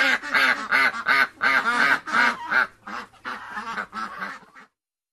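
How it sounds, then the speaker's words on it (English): Ducks on a farm quacking loudly and close by, a rapid series of repeated nasal calls that slowly thin out and stop. "18 ducks."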